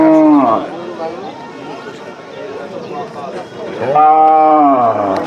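Cattle at a village cattle market in Charabhita, Bagharpara, with a loud, close moo at the start and another toward the end over a low background murmur.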